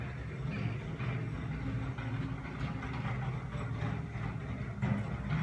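A heavy garbage truck engine rumbles low and steady outdoors, with faint clanks and rattles over the droning motor.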